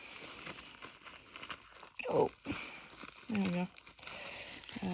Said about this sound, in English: they're in a bubble wrap baggie, so I'm gonna have to just tear that open with my teeth